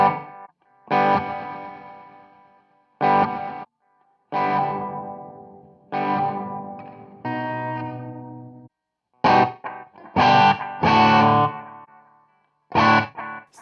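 Electric guitar through Suhr amps with spring reverb from a Torpedo Captor X amp simulator: close, distorted chords and short riffs with pauses, each note decaying with a lingering reverb tail.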